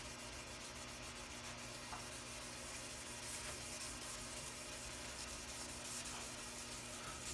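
Nitro lacquer on a guitar body is wet sanded by hand, producing a steady, close, even rubbing hiss that continues without pause and with no voices.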